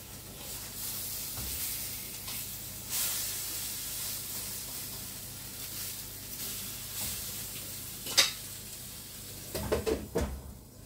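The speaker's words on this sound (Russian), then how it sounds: "Девочки, жарю на двух сковородках." Eggplant frying in two frying pans over low heat, a steady broad hiss and sizzle running throughout, broken near the end by a few clattering knocks of a pan or utensil.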